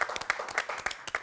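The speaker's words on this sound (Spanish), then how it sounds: "Le vamos a mandar un aplauso." A television studio audience on a lunch talk show applauds, quick rhythmic clapping from many hands, bright and close, with no voices over it.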